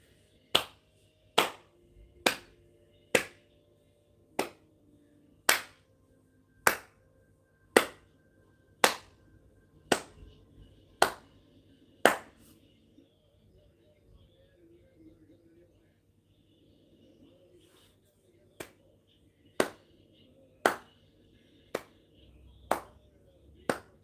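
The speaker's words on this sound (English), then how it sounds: "I slow clap because that's how not impressed I am." Single person giving a sarcastic slow clap, sharp isolated claps spaced about a second apart, a run of around a dozen, a pause, then another run of about eight, close to the microphone in a quiet room.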